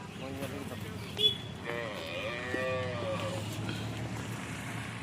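A cow at a dairy farm moos in a long, drawn-out call near the middle, heard close over a low steady background rumble.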